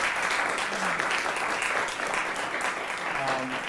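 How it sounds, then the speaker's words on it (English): A symposium audience claps for its panelists, a steady wash of applause with a few faint voices murmuring underneath. "give a huge round of applause to our fantastic panelists"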